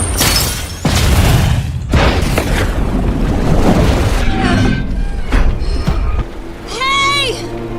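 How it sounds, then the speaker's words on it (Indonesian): A big explosion in an action film erupts as loud booming blasts and crashing impacts, followed by rumbling debris and dramatic music over roughly eight seconds, with no speech. "tiba-tiba saja terjadi sebuah ledakan besar"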